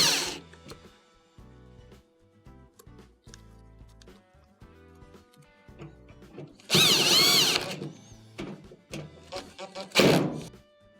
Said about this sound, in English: We will reinstall our Phillips screws.